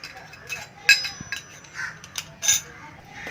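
Metal clicks, scrapes and a creak come up close while a star-shaped plate with three holes is fitted into a murukku press, in irregular bursts with brief sharp taps.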